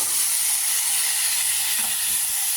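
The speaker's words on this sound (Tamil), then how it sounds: "இந்த இதில் வெங்காயத்தை போடணும்." Onions added to hot oil in a pan with fried lentils, a steady close sizzle and hiss that runs without pause throughout.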